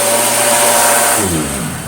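A Hoover Junior 1354a upright vacuum cleaner, smashed and being refurbished, runs with a steady loud whine, then its brush roll motor note drops and winds down near the end.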